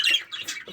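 Zebra finch in an aviary nest box with its young chicks, giving short bright chirping calls, a quick burst followed by a few softer chirps, close by with no talk.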